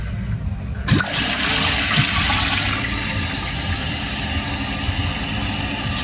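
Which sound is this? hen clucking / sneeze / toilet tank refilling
toilet tank refilling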